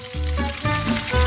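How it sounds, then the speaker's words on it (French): Sausage skewers hiss and sizzle in boiling oil, a steady close bubbling crackle over about a second. "Et maintenant, je vais tout mettre dans l'huile bouillante."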